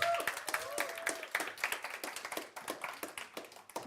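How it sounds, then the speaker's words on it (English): Audience members at a tech event clap for a presenter, a modest round of distinct, separate claps from a smaller group, with a voice briefly heard in the background. "Big applause to Peter once again, please."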